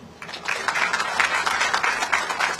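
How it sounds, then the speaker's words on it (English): A large audience at the opening of an Indian jewelry store applauds after a speech, a dense, steady wash of clapping that holds at full strength throughout. "a big, thunderous round of applause"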